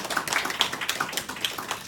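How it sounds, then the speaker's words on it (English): An audience applauds, a small, scattered patter of hands clapping in an irregular rhythm, fairly close, with no talk over it, lasting under two seconds. "Give her a good round of applause"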